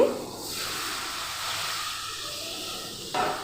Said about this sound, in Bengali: আমার কষানো জল দিয়ে দিচ্ছি